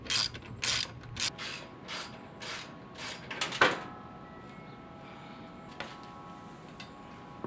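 A ratchet wrench loosens the strut top nuts on a 2018 Subaru Crosstrek, producing several quick bursts of close, crisp clicking, then fading to quiet with a faint metallic tap.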